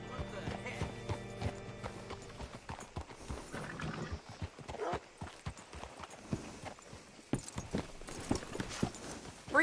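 Steady clip-clop of horse hooves with an occasional whinny, set against a layered game soundscape while a voice speaks over parts of it.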